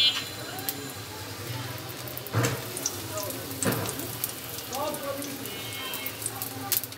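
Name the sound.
potato-stuffed eggplant fritters (beguni) frying in oil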